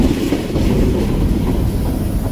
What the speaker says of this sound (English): After this train cleared, I'm not sure if this is a grain train or a potash train